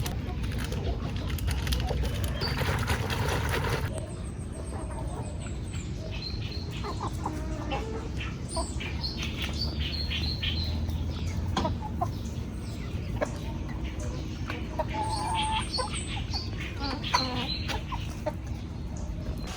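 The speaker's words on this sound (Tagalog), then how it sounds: "yan po yung ating mga alagang manok" Chickens cluck repeatedly at close range, with scattered chirps and a steady outdoor background hum throughout.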